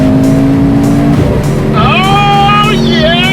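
A Porsche Macan S, 375 horsepower, accelerates hard with a loud, rising engine note that climbs through gear changes, close up and dominating the scene.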